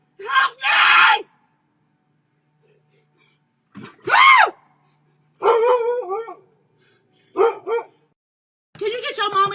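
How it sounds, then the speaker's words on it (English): A dog barks and howls at a front doorstep in several loud, separate bursts with silent gaps between them, while a frightened person screams and shouts nearby. "It's a dog right here."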